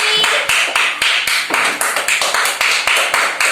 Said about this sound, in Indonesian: Beri tepuk tangan ke Anun.